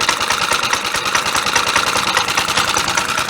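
Suffolk Punch 30 lawnmower engine running steadily nearby, a loud, even, rapid chugging with a slight rough knock, and no voices.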